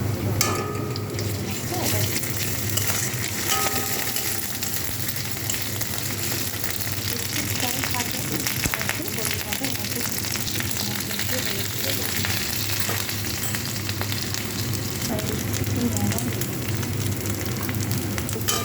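Ginger-garlic paste frying in a pan while fish is cooked, a loud steady sizzle with occasional stirring scrapes, and a voice speaking over it.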